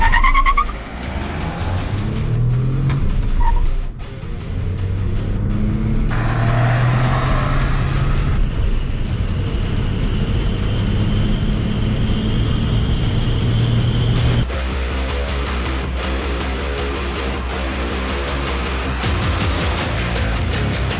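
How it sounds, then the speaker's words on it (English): A Mahindra XUV300 TurboSport with a 1.2-litre three-cylinder turbo engine accelerates hard from a standstill to 100 on an airstrip, the engine note rising through several gear changes with brief dips between them, loud and continuous. "Let's get started with the 0 to 100 acceleration test."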